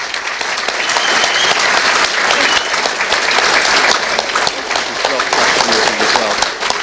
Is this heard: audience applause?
yes